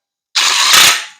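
A ratchet tightens the oil pan bolts on a 1968 Chevelle during a Holley 302-3 oil pan install: one continuous, close, rapid clicking burst of about a second that starts abruptly and fades out at the end.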